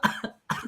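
Two sharp coughs from one person, close and loud, separated by a short silence, each a burst followed by a brief rough tail.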